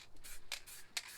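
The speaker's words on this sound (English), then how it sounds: "gold spray paint seems to spit more" A gold spray paint can sprays in short, faint hissing bursts with sputtering spits, two brief louder spurts standing out over quiet background.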